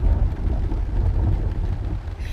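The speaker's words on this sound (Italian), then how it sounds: "bei tuoni, ma a basso volume però" Low, soft rumbling thunder with a steady wash of rain-like noise, played quietly and without pause for a couple of seconds, no voices.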